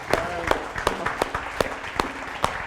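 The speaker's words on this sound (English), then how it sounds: "Round of applause." A small audience at a tribal business presentation gives a few sparse, separate hand claps spaced about every half second, fairly close, with no speech over them.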